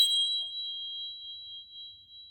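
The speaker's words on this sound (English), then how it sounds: "we can just do a nice little sound tingsha bell" A small tingsha bell is struck once in a quiet room during a kids' yoga class, giving a bright, clear ding that rings on as a long steady tone and slowly fades.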